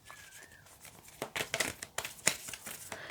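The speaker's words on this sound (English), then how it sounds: "If I can actually shuffle, all week I've been having problems shuffling these decks." A deck of tarot cards being shuffled, giving soft, quiet riffling and crisp card snaps in irregular bursts, close and faint with no talk.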